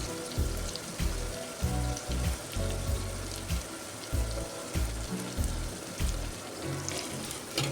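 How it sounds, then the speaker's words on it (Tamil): Brinjal sautéing in a hot clay pot, with steady crackling and sputtering under repeated low scraping knocks as the pieces are stirred, close and fairly loud throughout. "சீக்கிரமே வதங்கிடும், ஏன்னா மண் சட்டிங்கிறதுனால சூடு அதிகமாக இருக்கும். நல்லா வதங்கட்டும்."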